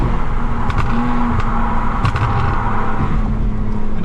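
A tuned Lexus IS250 fitted with an M-Force exhaust rumbles steadily up close, with a few sharp crackling pops breaking through the engine drone.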